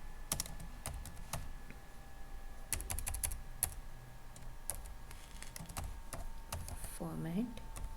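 Clacking on a computer keyboard while a formula is entered in Power BI, irregular close keystrokes in short runs, with a voice speaking briefly near the end.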